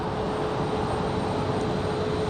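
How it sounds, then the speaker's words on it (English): A Delta Airbus A320 arriving from Orlando at Raleigh-Durham International makes a steady broadband engine roar with a faint whine, continuous and fairly loud, alone without voices. "Now the A320 coming in from Orlando."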